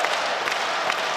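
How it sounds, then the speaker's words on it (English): A home-court crowd at a professional basketball game between the Taoyuan Pilots and Hsinchu Jko Lioneers gives a brief, steady round of applause, a dense wash of clapping throughout. "Getting a nice round of applause from"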